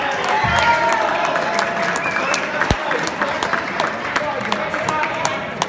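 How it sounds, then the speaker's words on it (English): An audience at a championship toast breaks into a dense, sustained round of applause, many hands clapping close and loud with crowd murmur and scattered sharp claps standing out over the full stretch. "Clap."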